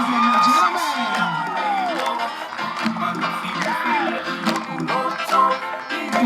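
Crowd at a Samoan Flag Day dance performance in Utah cheers loudly, with whoops, yells and children shouting over a steady roar; voices call out near the front.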